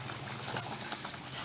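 Chicken curry with potatoes bubbles in a pot, a soft, steady boil with faint popping and simmering, close but quiet and brief.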